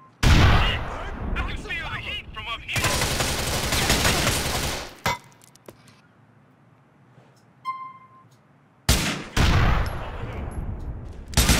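Grand Theft Auto 4 grenade explosion: loud broadband blasts open the scene, then a lull with a faint tone before another heavy burst near the end, with no speech.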